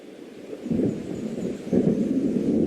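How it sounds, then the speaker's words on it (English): Low rolling thunder from an approaching storm in the video game Alan Wake swells in two deep rumbles, heavy and sustained, with no voices. "It seems there's a storm coming."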